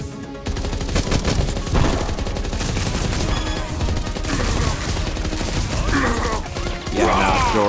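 Video game gunfire in a slum setting: dense, rapid bursts of shots and clattering impacts fill the clip loudly and steadily, with no pause.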